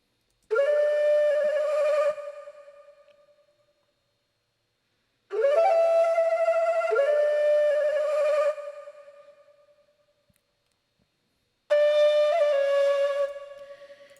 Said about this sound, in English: the flute alone sounds like this